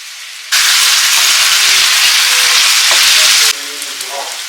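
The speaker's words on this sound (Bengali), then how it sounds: "দিয়ে ভালো করে এটা ফ্রাই করে নেব।" Chicken in yogurt marinade hits hot oil with a sudden loud sizzle that roars steadily for about three seconds, then drops to a softer crackle with faint stirring.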